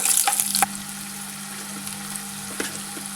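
Bitter gourd masala with ginger paste is stirred in a hot pan: a steady frying sizzle, with a quick cluster of spoon clatters at the start and a few more later.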